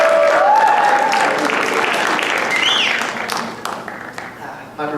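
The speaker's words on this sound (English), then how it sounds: "let's give a round of applause for Stu and Drew" An audience at a talent show applauds, with steady clapping that tapers toward the end while voices and some tonal sounds carry over it.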